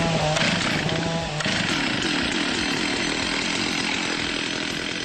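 A chainsaw engine roars steadily and loudly, close by, with a brief change in pitch early on before settling into a continuous buzzing drone.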